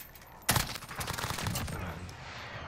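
A burst of rapid gunfire from Call of Duty Warzone, opening with a sharp crack and rattling on as quieter continuous shots that fade over a couple of seconds.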